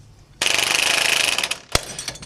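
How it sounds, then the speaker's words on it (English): A ball joint press on a Toyota 4Runner or Tacoma front suspension gives off a sustained loud rattling, grinding burst as the joint is pressed out, ending with a sharp crack and a few faint clicks. "I'm going to use this ball joint press."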